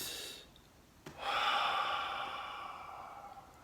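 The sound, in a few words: full deep breath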